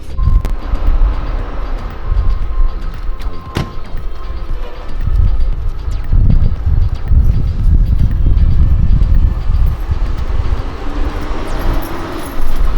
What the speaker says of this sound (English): let me just park the car